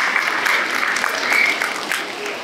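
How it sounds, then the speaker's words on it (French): Audience applause at the Défi d'éloquence 2024 for the event's photographer, a steady dense clapping from a large crowd that holds evenly loud throughout, with a faint hint of voices mixed in. "on peut l'applaudir, parce qu'il va faire les photos et la vidéo"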